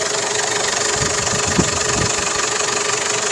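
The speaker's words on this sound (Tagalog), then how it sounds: "Ford Everest overhaul maandar na" A Ford Everest engine, just given a top overhaul after coolant mixed with its oil, idles steadily up close with an even mechanical clatter and hum and one small knock midway.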